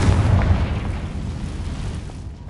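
A Confringo blasting spell explodes in the game Hogwarts Legacy, one loud, deep boom that rolls on and slowly fades over a couple of seconds.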